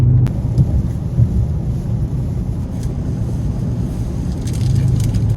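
Thunder rumbles before rain, a low rolling roar with faint rain hiss and distant traffic, sustained and fairly loud with no talking.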